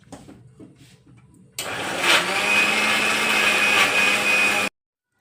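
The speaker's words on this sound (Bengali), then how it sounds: "তো আজকে মিক্সিতেই বেটে নিচ্ছি," A kitchen mixer grinder whirs steadily as it grinds a large batch of spices for a home-cooked dish, its motor starting abruptly and running loud and close for about three seconds before cutting off.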